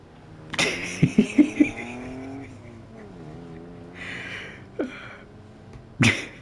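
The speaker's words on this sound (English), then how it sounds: "Sharon sees the disappearing car." A car in the video game As Dusk Falls pulls away, its engine revving through several quick rising bursts, then droning and fading into the distance, with a couple of sharp thumps near the end.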